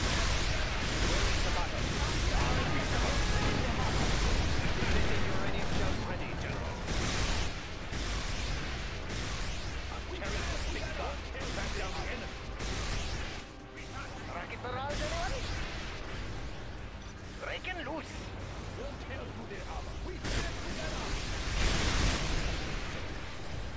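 Rocket barrage and artillery fire in the real-time strategy game Rise of the Reds, played as China's Flame General: dense, continuous booming explosions and rapid blasts filling the whole stretch, loud and near, with game voice lines over them.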